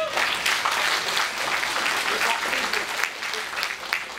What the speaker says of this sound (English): No, clap them.